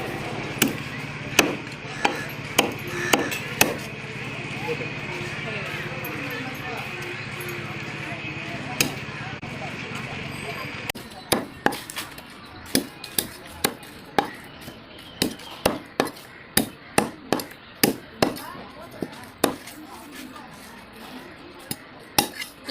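A knife chops country chicken into small pieces on a board, with a rapid run of sharp, near thwacks, sparse at first and then dense and irregular, while a voice talks over the cutting.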